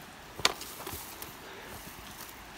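A machete strikes once on a trail near a Costa Rican waterfall, a single sharp tap followed by faint softer knocks over quiet outdoor background.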